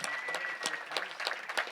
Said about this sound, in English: Please, a round of applause for another builder